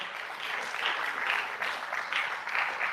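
Steady audience clapping at a fundraising launch for a research foundation, sustained and fairly even in volume, with a slight rhythmic pulse and no voices on top.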